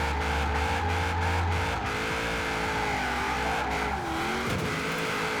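A 1000 HP Holden Commodore Group A drift build in the video game Forza Horizon 4 revs hard and steadily while drifting, its engine note droning loud and close with brief gear-shift dips and faint tire squeal.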